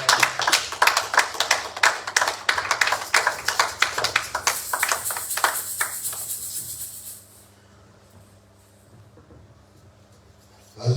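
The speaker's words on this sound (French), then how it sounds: "Nous acclamons pour la parole." A church congregation applauds in a large room, with dense, rhythmic clapping that holds steady and then thins out and stops, leaving quiet room noise with a faint hint of voices at the end.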